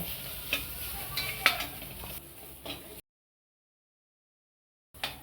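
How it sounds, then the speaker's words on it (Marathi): Masala with coriander and cumin powder being stirred and sautéed in a pan, soft scraping and sizzle with a few sharper clinks over the first three seconds, then silence and a brief return at the end. "आता आपण जिरं पावडर टाकू आणि छान मसाला असा परतून घेऊ"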